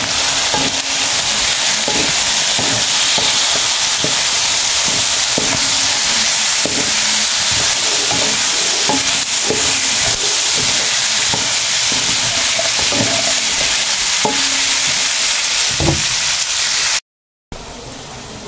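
String beans for adobong sitaw with pork sizzle steadily in an oiled pan, with a loud continuous fry and repeated scraping stirs throughout, followed by a brief cut near the end.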